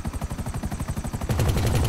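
Rapid automatic gunfire in GTA Online, a dense stream of rattling bursts that grows louder and heavier partway through, with no talk over it.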